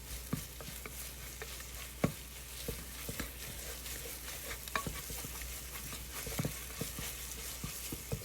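Food frying in a pan while being stirred continuously, a soft, steady sizzle broken by frequent scrapes and taps of the utensil against the pan, fairly faint, with no speech.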